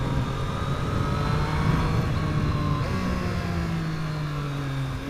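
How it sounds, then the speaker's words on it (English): Triumph Street Triple RS motorcycle engine on a country road, a loud steady drone that drops in pitch partway through as the rider downshifts, continuous and close with wind noise and no talking. "That was a bit more of an aggressive downshift, and it wasn't jerky."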